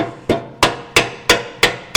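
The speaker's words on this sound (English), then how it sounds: "I'll use the old dead blow on that one" A dead blow hammer pounds on a bolt during a Kubota BX 80 Series quick attach installation, six loud, evenly spaced strikes about a third of a second apart, each ringing briefly before the next.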